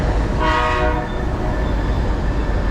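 A train horn sounds once, loud and close, over the steady rumble of rolling rail cars.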